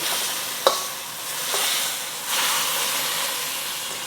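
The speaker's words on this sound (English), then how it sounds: "I'm going to push the broccolini to the side" Broccolini sizzles in a pan while being pushed aside, a steady hiss of hot oil with a sharp utensil clank and scraping as the heat rises.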